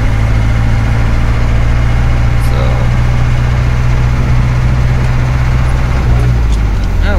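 A vehicle engine drones steadily and loudly from start to finish, with a deep, constant rumble that never lets up.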